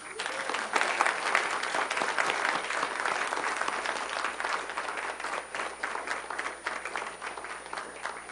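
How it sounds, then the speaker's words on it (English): An audience at a League of Women Voters candidate forum breaks into steady, dense applause that holds at an even level for the whole stretch, with no one speaking over it. "Applause."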